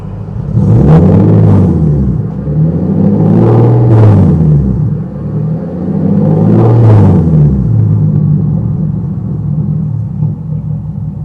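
A Hyundai Genesis sports car engine rumbles loudly up close, rising in a few deep revs over a steady idle with no talking.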